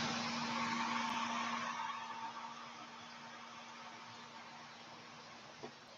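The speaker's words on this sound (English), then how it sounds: "And now the air conditioner is talking." Air conditioner blowing indoors, a steady broadband whoosh with a faint constant hum that eases slightly after the first couple of seconds, alone with no talk.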